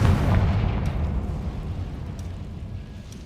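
A Confringo spell explosion in Hogwarts Legacy: a heavy, rumbling blast that hits loud at once and then slowly fades into a low, decaying roar with faint crackles.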